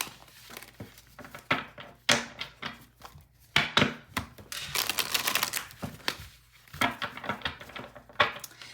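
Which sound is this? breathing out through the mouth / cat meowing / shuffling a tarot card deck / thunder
shuffling a tarot card deck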